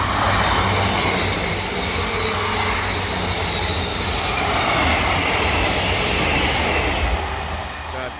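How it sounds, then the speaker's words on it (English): A South Western Railway train passing Raynes Park on the South Western Main Line gives a steady, loud, close rushing roar of wheels and motors that fills the whole stretch without letting up. "Is a South Western Railway service. I think this is off to Portsmouth and Southsea."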